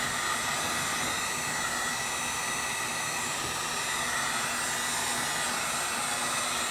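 A hair dryer blows steadily and close by, drying a freshly applied finish on repaired leather, a continuous broadband whoosh that holds level for the whole stretch.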